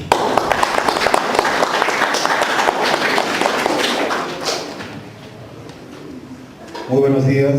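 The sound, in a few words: audience applause at a press conference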